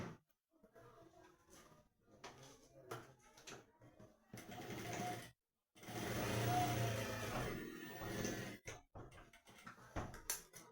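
A sewing machine stitching the pocket on a pair of trousers in short bursts, its rapid mechanical clatter starting and stopping between pauses, fairly close and moderately loud with no talk over it.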